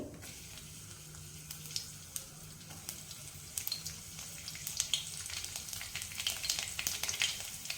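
Garlic sizzles in hot oil for dal khichdi, a soft steady crackle and frying hiss with scattered sharp pops that grow busier toward the end, heard faintly and alone.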